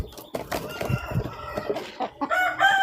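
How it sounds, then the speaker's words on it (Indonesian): Chickens on a livestock farm cluck and squawk busily while pecking at freshly given feed, a close, continuous flock chatter with a few sharper calls toward the end. "ayam pun suka ya makannya ya. Saya biarkan ayamnya memakan."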